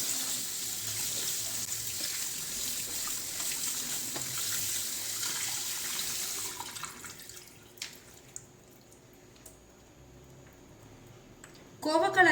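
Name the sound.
rinsing ivy gourd (kovakkai) in running water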